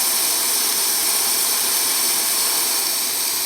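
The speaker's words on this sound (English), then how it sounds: "So right now we're on a high boil type flame." A Coleman Exponent 550b single-burner camp stove roars on high flame, a steady, loud, broadband rushing hiss that holds unchanged throughout with no voices.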